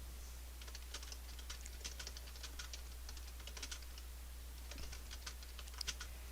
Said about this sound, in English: So that way, you can start typing.